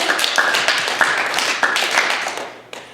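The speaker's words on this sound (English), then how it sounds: "we can clap our hands together" A few people clap their hands together in a loose, uneven rhythm during a storytelling performance of a Bantu tale, the claps sharp and close before fading out near the end.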